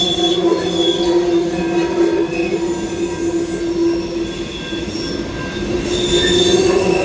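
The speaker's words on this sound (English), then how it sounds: "Train is still going, if you can hear it." Metal wheels squeal continuously as a freight train rolls by nearby in the Fraser Canyon, British Columbia, a sustained screech over a dense rumbling roar that swells again toward the end.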